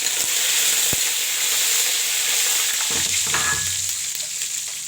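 Curry leaves dropped into hot oil for a fish curry, giving a steady loud sizzle and hiss that crackles more sharply for a moment near the end.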